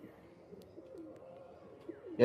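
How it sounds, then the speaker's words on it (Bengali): Kalanka pigeons cooing softly at close range, a low murmuring coo repeating over a quiet background, with a brief louder bump at the very end. "এই হলো কালাঙ্কা পায়রা, দেখুন।"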